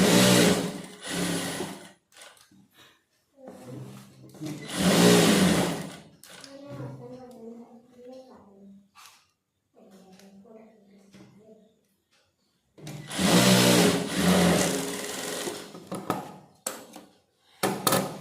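A sewing machine double-stitches a coat pocket, with loud bursts of rapid stitching at the start and again near the end and someone speaking in the quieter stretch between.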